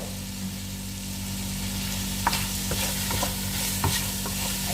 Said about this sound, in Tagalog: Ayan, ang saluyot, ginisa na natin sa garlic.